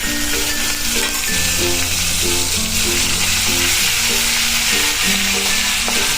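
Ginger, garlic and chili paste sizzles in hot oil with a steady crackling hiss, while soft background music plays along throughout.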